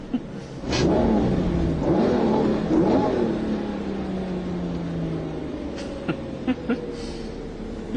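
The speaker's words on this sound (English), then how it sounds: "Just for that noise when you blip the throttle. Listen to that!" Lamborghini Murcielago LP640 engine revving with throttle blips, loud rising and falling harmonic swells close by, then a long settling idle with a few sharp pops near the end.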